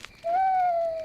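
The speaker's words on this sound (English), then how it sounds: "It's an owl." An owl in a cartoon gives a single smooth, drawn-out hoot that slides slightly downward and stands out clearly against near silence.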